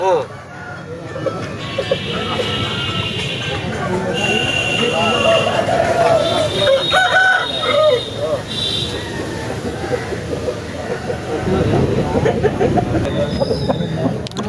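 Roosters crow repeatedly among clucking country chickens at a busy Saturday poultry market, with people talking and bargaining throughout and the general din of the crowd underneath.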